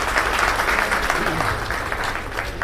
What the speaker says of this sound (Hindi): आदरणीय बीपी तिवारी जी के लिए जोरदार ताली बजाएं।